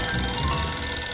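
A telephone rings in the Sam and Max video game, a steady electronic trill held for about a second at a constant level, with no talk over it.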